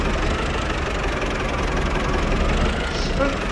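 A tractor engine idles with a steady low rumble throughout, with a knocking, vibrating texture, close and continuous, with no pauses, during bale harvesting on a Polish farm.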